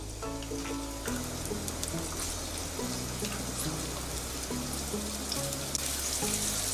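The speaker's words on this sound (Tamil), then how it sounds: "நம்ம ஒரு வெங்காயத்தை இந்த மாதிரி சின்னதாக கட் பண்ணி வச்சுருக்குறோம், அதை இதையோடு ஆட் பண்ணிக்கலாம்." Chopped onion fries in hot oil in a pan for gobi manchurian, giving a steady, close sizzling hiss under light background music.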